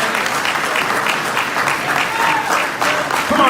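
Enthusiastic audience applause at a Nation of Islam gathering in Los Angeles, loud sustained clapping with cheers and scattered shouts rising over the crowd.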